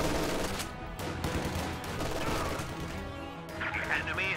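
MG42 machine-gun fire and other gunfire rattle in a World War II strategy game battle, dense sustained bursts and crashes mixed under continuous commentary speech.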